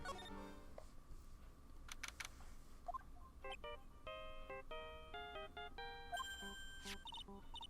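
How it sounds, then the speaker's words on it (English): A phone ringtone in Phoenix Wright: Ace Attorney - Justice for All on PS4 plays as a chiming electronic melody of short, clear tonal notes, rather faint over a low background hiss. "I don't like the sound of this ringtone right now."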